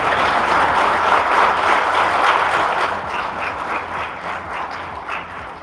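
A crowd of village development officers gives a hearty round of applause welcoming a speaker at a gathering, loud and sustained clapping that gradually softens toward the end, with no talking.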